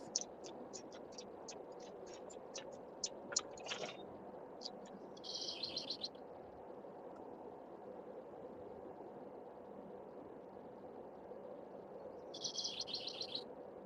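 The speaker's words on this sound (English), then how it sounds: "I hear your birds." Outdoor birds chirp and sing. A run of quick, high tweets gives way to two short bursts of trilling song, all faint and distant over a steady hum of background noise.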